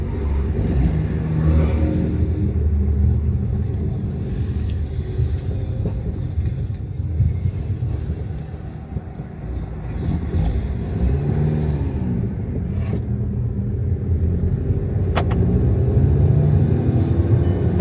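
A Stage 2 tuned MK7 VW GTI drives around out back on its first drive after the build, its engine rumbling loudly and close, with repeated rises in revs as it accelerates and eases off.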